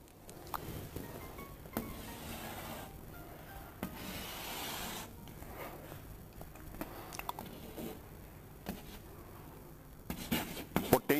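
Marker or chalk rubbing and scratching across a classroom board while a graph is drawn, scattered scraping strokes with brief taps and pauses, close and moderately quiet, no talking.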